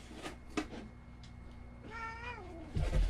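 A cat gives a clear, drawn-out meow nearby, with a few softer rustles and taps before it and a thump right after.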